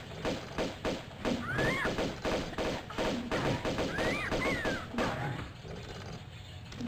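Grenade launcher firing in the Tomb Raider I–III Remastered game, Temple of Xian level: a dense run of repeated thumping blasts over game music and effects, fairly loud and continuous, without talk.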